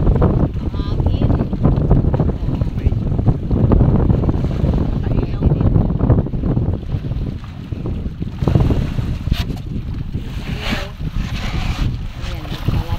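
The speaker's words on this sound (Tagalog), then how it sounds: "Ang hangin." Strong wind buffets the microphone over choppy Taal Lake, a steady loud roar with wave wash and boat noise throughout, with faint talk beneath.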